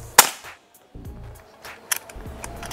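A single sharp, snappy shot from a PCP double-tube air rifle near the start, followed by quieter clicks and a metallic tap from the gun's handling.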